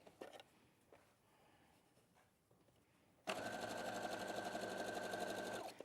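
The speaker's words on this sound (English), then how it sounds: "So I'm sewing along the first fold and I'm keeping the binding at the edge of the fabric." A sewing machine stitching binding onto the edge of an apron, starting after a few faint handling knocks and running as a loud, steady, rapid mechanical whir for the last few seconds.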